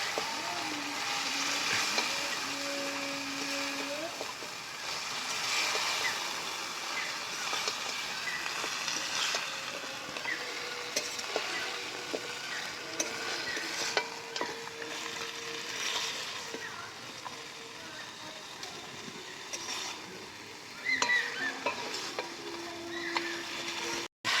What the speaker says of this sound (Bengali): এখন আমি ভেজে রাখা মুড়োগুলো কষে নেব।